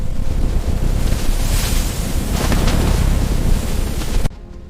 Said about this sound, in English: The wind grew angry.